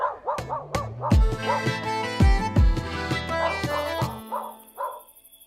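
A dog barking several times in quick yips and bow-wows with whimpering tones between, close and clear, ending on softer whines.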